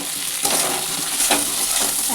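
Spices fry and are stirred in a pan for potato curry, a close, steady sizzle with soft scraping strokes of the spoon every so often, no one speaking.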